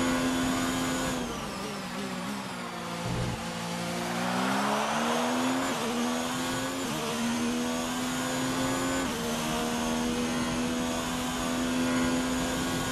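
Formula 1 race cars in F1 19 on an online race's final lap: a high, sustained engine whine that rises and falls through gear changes, close and constant, with no talking.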